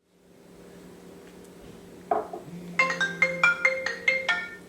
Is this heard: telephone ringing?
yes